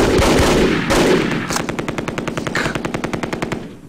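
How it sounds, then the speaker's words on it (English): Medium machine gun firing in the war game Tigers on the Hunt: loud blasts followed by a rapid, evenly spaced burst of roughly twenty shots that trails off, no talking. "Medium machine gun just tore us up."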